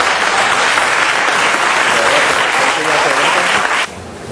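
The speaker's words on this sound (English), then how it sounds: "Please give her a round of applause." An audience at a city council meeting gives a loud, dense round of applause honoring a woman, the clapping steady throughout and then dropping abruptly near the end.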